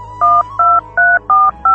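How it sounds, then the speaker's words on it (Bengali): A telephone is dialed in a cartoon: five loud, evenly spaced two-tone keypad beeps, each about a fifth of a second long, sound alone in quick succession. "দেখি রমজানকে একটা ফোন করি।"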